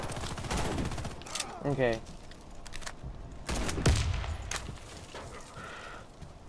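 Gunfire in Warface, bursts of close automatic and pistol shots in uneven clusters, loud and sharp, with a voice speaking briefly among the shots.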